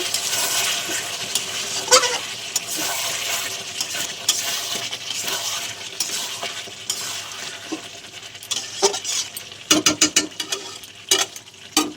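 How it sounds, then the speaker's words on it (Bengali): Chicken pieces being stirred and browned in a pan for a saucy chicken curry, with a steady sizzle under repeated scraping and clinks of a metal spoon against the pan, growing busier near the end. "তো আমরা চিকেনটা আরও একটু ভালো করে কষিয়ে নেব।"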